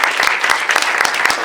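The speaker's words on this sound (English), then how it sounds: "Can we please give him a big round of applause and thank him?" Audience applause for an event sponsor at a future-leaders mixer, a dense steady wash of many hands clapping close by for a short burst, with no talk over it.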